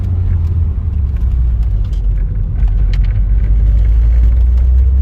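A Peugeot 405 T16 turbo car cruising along at an easy pace, its engine a steady, loud low rumble that continues unbroken throughout with no voices.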